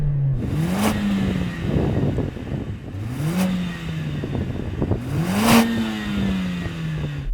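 A Mercedes-AMG A45 engine is revved three times in succession, each blip rising sharply then easing back to idle, heard from close by with a whirring, clattery mechanical texture between revs.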